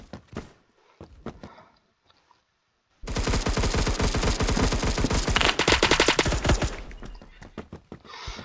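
Loud, sustained automatic gunfire from the online shooter game Phantom Forces, a rapid fusillade of closely spaced shots running for several seconds after a brief quieter stretch of scattered small sounds.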